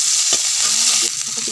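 Fish belly pieces fry in a wok with a loud, dense sizzle, steady and close, with a few faint soft knocks underneath.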